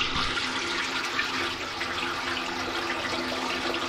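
Old engine oil drains from an Autocar semi truck into a pan, a steady, continuous liquid pour and splash with no talking.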